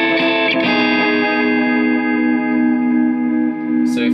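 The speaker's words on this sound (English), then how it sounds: "So you get more of that analog delay sound with this, but with a little bit of extra crazy tapey stuff thrown in." Keeley Caverns analog delay pedal playing a sustained, heavily repeated tone with degraded, tape-like echoes smearing into a continuous wash, loud and steady with faint picking transients.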